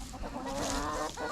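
A Black Copper Marans hen clucks in a short, close burst of throaty, rhythmic calls with no one speaking.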